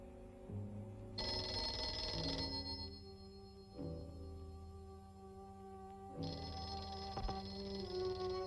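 Telephone ringing in an old monster movie, an electric bell ringing in repeated bursts with short pauses between them, clear and alone.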